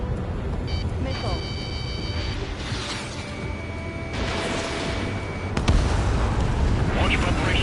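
Missile launch and explosion in the jet combat video game Ace Combat 7, with dense rumbling booms and blasts throughout, a sharp louder burst midway, and radio voices talking over the action.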